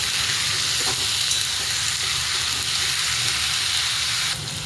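Chopped eggplant sizzles loudly in hot oil with softened tomato in a kadhai, a dense continuous frying hiss close up that dips slightly at the end.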